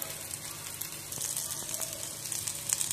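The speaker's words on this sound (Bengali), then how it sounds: "পেঁয়াজ আর কালো জিরেটা একটু ভেজে তুলে রাখবো" Onion and black cumin seeds frying in a pan, a close, steady hiss of sizzling oil with bright crackle throughout, growing slightly louder toward the end.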